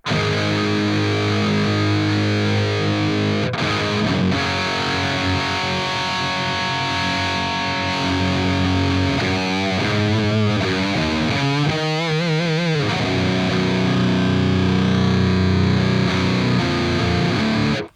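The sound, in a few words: guitar distortion from Neural DSP Archetype Gojira dirt pedal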